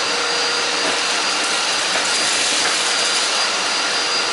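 An IFLOOOR 5 Steam 3-in-1 stick vacuum runs continuously, a loud, close, steady rushing whine with no breaks and no talking.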